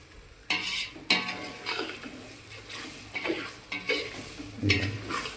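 A spoon stirs fried eggplant pieces through spice powder in a pan, giving repeated scraping, clattering strokes over a low sizzle. A few sharper metal knocks stand out among the strokes.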